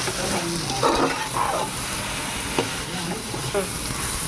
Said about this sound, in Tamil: பச்சை மிளகா இதெல்லாம் போட்டு நம்ம கிண்டணும்.